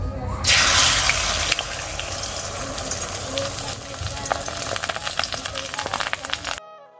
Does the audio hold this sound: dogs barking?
no